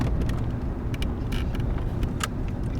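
A 1983 Oldsmobile Regency 98 Brougham rolls over a rough stone-chipped gravel-and-tar road, giving a constant loud low rumble with light rattles and jingles ticking over it.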